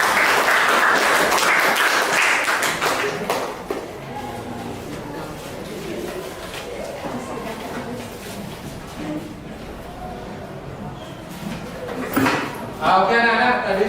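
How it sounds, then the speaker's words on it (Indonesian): Classroom applause after a student group presentation in a Hindu religious education class, loud clapping for the first few seconds, then fading into softer scattered claps and voices with some clattering near the end. "Oke, beri tepuk tangan."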